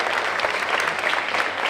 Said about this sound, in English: How about a big round of applause for all the volunteers?